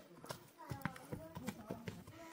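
Hooves of a horse shown for sale at a Kyrgyz livestock bazaar, clopping in a quick uneven rhythm of sharp knocks close by, with murmuring voices in the background.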